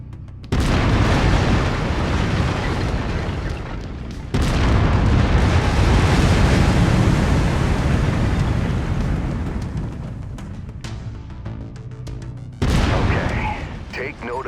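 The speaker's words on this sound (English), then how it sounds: "I've mapped the autocannon to Weapon Group 1. You're free to fire whenever you're ready." An autocannon fires in the video game MechWarrior 5, heavy booming bursts rolling in loud sustained waves with a brief lull midway, under game chatter and engine rumble.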